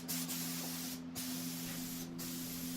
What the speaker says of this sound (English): I'm shooting 3 coats of polyurethane that has a satin finish